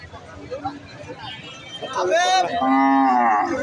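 A bull lows loudly and at length among cattle at a Bangladeshi village livestock market at Bamundi, Pabna, rising out of a murmur of crowd voices and talk before the long moo takes over.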